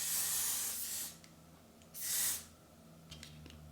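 Hairspray from an aerosol can hisses in two short bursts about a second apart, close and sharp, with quiet rustling between and after the sprays.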